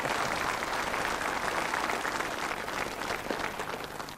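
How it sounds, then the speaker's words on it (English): Studio audience applause for a game show champion, steady dense clapping that fills the room without pause and fades slightly toward the end. "It's very nice that you should give me all that applause."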